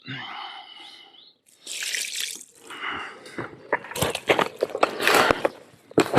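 Water is poured into a fishing groundbait mix for carp, with dribbling, splashing and wet mixing sounds close by that grow busier and louder toward the end.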